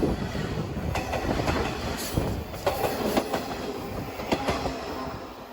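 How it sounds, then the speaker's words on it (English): A Metra Electric commuter train of electric gallery cars passes close by, with a steady rumble and rhythmic clickety-clack of wheels over rail joints, a few sharp clanks and a faint wheel squeal throughout. "oh look, another train"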